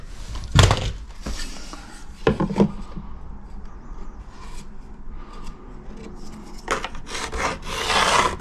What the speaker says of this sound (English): I'll just get my Dremel out and cut directly through there